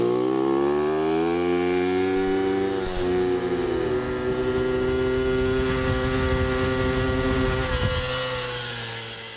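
A small moped engine revs loudly in first gear, close up, its buzzing drone dipping briefly before settling into a steady, sustained whine that fades slightly at the end.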